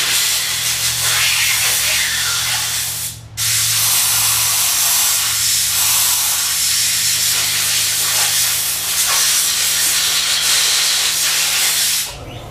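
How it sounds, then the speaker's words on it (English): An air compressor hisses loudly and steadily for about twelve seconds, with a low hum beneath it and one brief dropout partway through. "Air compressor."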